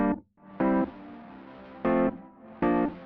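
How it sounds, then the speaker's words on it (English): Eventide Mangledverb reverb and distortion effect at its default setting turns three loud, harmonically rich synth stabs into gritty, distorted tones, each trailing into a washy reverb tail with no talking. "Let's run through Mangledverb and see what Mangledverb sounds like."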